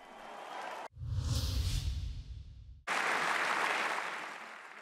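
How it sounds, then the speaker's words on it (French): Applause from the 577 deputies in the French National Assembly after a suspense-filled day of voting, a dense roar of clapping that breaks off abruptly, then swells back loud and sustained to the end. "Des applaudissements des 577 députés à l'issue d'une journée pleine de suspense."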